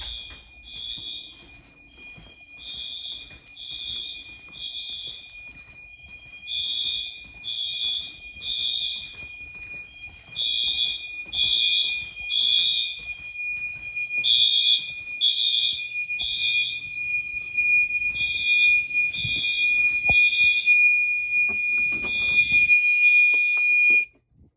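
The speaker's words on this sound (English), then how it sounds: "A few seconds later, the alarm will go off." A Genesis security system fire alarm sounds during a panel test, beeping in regular triple bursts over a steady high tone, loud and close, with no talking.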